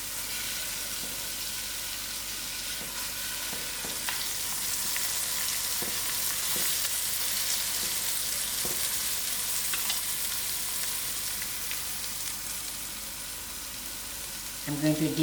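Onions sizzle steadily in margarine in a pot, a soft even hiss with occasional light clicks of stirring, close and fairly quiet throughout.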